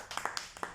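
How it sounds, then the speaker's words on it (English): A brief burst of a few scattered claps from a small audience, close and fairly quiet, with no talk over them. "Let's give him a round of applause"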